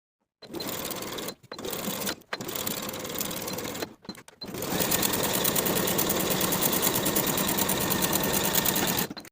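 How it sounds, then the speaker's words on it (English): A sewing machine stitches a 3/8 inch seam on pajama fabric, running in several short bursts separated by brief stops, then settling into one long steady run, loud and close with no talking. "Sew with a 3/8 inch seam allowance and finish the raw edges together"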